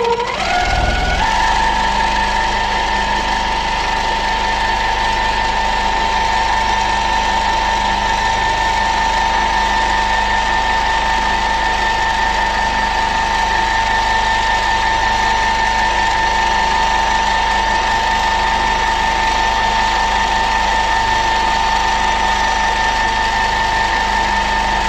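A longarm quilting machine sews at full speed, a loud steady mechanical whir with a constant high tone, starting up in the first second and running unbroken to the end with no talking.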